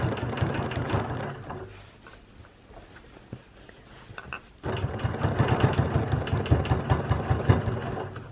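A quilting machine travel-stitches across an edge-to-edge quilt design, its motor humming with a steady rapid needle rhythm that drops to a quieter lull midway before resuming louder and denser to the end.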